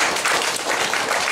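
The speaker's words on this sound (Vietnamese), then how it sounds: "Xin quý vị cho một tràng pháo tay" A crowd applauds steadily, a dense wash of many hands clapping together at an even level.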